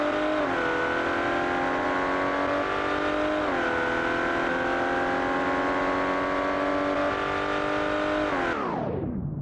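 In a BeamNG driving simulation, a low-quality custom car built in Automation launches down a quarter-mile strip, its loud engine revving hard with rising pitch, dropping briefly at each gear change, then cutting off abruptly at the end.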